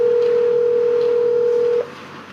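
A telephone gives a loud, steady single-pitch dial tone while calling someone back, held for nearly two seconds before it cuts off, leaving faint line hiss.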